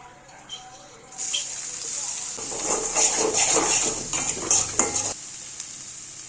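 Mustard seeds hit hot coconut oil in a pan, a bright crackling sizzle that starts abruptly, swells into dense popping and spattering close by, then cuts off sharply near the end.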